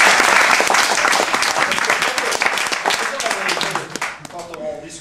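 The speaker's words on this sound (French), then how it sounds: "Applaudissements." Loud audience applause fills a hall, dense clapping that gradually thins and fades toward the end.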